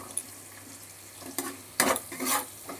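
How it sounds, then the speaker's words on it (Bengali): Chopped onions frying in a pan for an ol-alu prawn curry, a quiet sizzle broken by a few louder bursts of stirring and scraping, with no voices. "একটু ভেজে নিতে হবে পেঁয়াজ কুচিটাকে"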